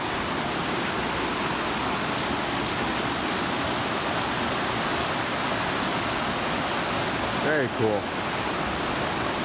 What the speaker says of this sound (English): Man, now that's the mountain river.